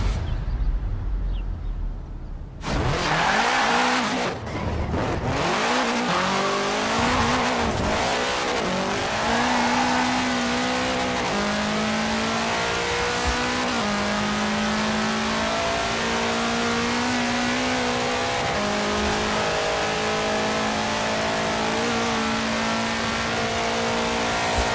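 A 1966 Volkswagen Beetle fitted with a 2.5-liter F4 turbo engine in Forza Horizon 4 launches hard after a brief low idle, then screams at high revs through shifts, engine roaring loud and sustained with tire squeal.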